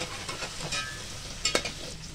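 Onions and garlic-ginger paste stirred in hot frying oil for a potato bharta, a steady close sizzle broken by scraping spoon strokes, with one sharper clack near the end; no talking.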